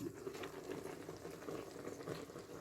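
Food fries in a multicooker on the frying setting, a soft, steady sizzle and bubbling that stays low and even throughout with no voices.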